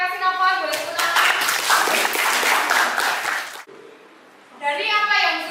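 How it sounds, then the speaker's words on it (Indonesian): A classroom audience bursts into a few seconds of close, crackling clapping, which stops abruptly. Children's voices chatter under and after the applause. "Boleh tepuk tangan."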